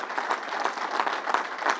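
Audience applause at a press briefing held at Belmont Racetrack, a dense, steady wash of many hands clapping at moderate distance, filling the room evenly without breaks for about two seconds.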